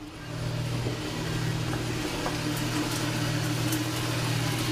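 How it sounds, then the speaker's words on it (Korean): A coffee roaster machine roasting green coffee beans gives a steady low mechanical drone with a constant hum and faint rushing noise, close and unbroken for the whole stretch. "지금 커피를 볶는 중이에요. 그 녹색의 생두를 여기 로스터기 안에 넣어서"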